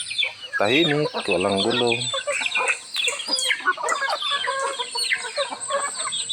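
Native chickens cluck close by in a quiet rural yard in the provinces, with a run of short rhythmic clucks early on and more scattered fowl calls continuing under a person speaking.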